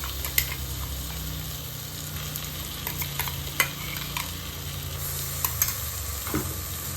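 Ginger garlic paste sautéing in a pan on low heat for chicken biryani, a soft continuous sizzle with scraping stirs and occasional clinks of the spoon against the pan.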